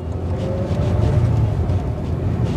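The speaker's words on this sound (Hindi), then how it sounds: "एक्सेलरेट करते हैं इसको।" A 2022 Maruti Suzuki Baleno facelift accelerates downhill, heard from inside the car as a steady, moderate engine and road hum that holds evenly throughout, with no talking.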